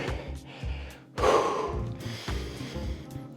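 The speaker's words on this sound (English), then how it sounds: "Breathing." Heavy, deep breaths during rest in a kettlebell workout: several loud gasping inhales and long exhales, close up with no talk.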